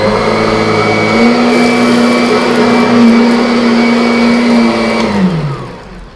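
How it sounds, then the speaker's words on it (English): A Kirby Avalir 2 vacuum cleaner runs on carpet with a loud, steady motor whine and rushing airflow, holding a constant pitch before winding down as it is switched off. "You're going to hear the real sound of the machine as it runs"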